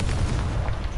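A Confringo blasting spell exploding in a Harry Potter video game, one short loud rumbling boom that fills the moment.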